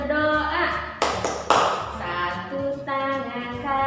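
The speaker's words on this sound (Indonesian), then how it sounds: "Tepuk berdoa." Hands clap in a children's prayer clapping rhyme, with a few sharp bursts of claps among voices chanting or singing along.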